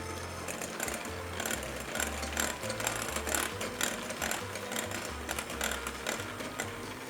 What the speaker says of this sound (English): Grab an electric mixer, and I'm just gonna mix this until it's smooth and creamy.